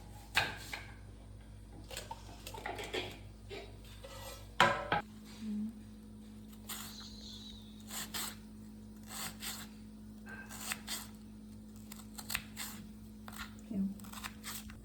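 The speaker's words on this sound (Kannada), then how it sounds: "ಸೊ ಗ್ರೇವಿಗೆ ರಫ್ ಆಗಿ ಚಾಪ್ ಮಾಡ್ಕೋತೇನೆ" Onions being roughly chopped for biryani gravy, irregular knife taps and crunches on a board with occasional clinks of utensils, close and fairly quiet.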